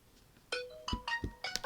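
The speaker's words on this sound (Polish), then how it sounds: "O, SMS." A phone's SMS notification plays a short, bright electronic chime sequence, a few quick clinking tones close by and fairly quiet, with no talk over it.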